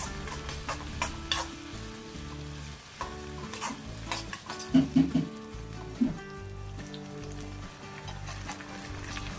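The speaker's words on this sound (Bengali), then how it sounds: "তো এবার এটাকে আমি হাই ফ্লেমে নাড়িয়ে নিচ্ছি।" Chilli chicken balls are stirred in a pan over a high flame: a steady oil sizzle runs under repeated scraping and clacking of the spatula, with a few sharper knocks midway.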